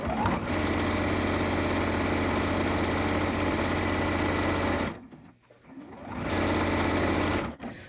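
Sewing machine stitching pieced fabric blocks for a scrappy rectangle string quilt block, running in a steady fast whir for about five seconds, briefly pausing, then starting again close and loud.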